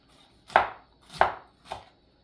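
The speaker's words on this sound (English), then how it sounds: "Cut them very, very, very fine." A knife chops mustard greens and callaloo on a board in three distinct, evenly spaced thuds, close and crisp, with no talking.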